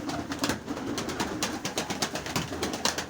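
Pigeons cooing while being fed a grain mix of barley, corn and wheat, with repeated soft throaty coos overlapping in an uneven rhythm, close and moderately loud, with no talk.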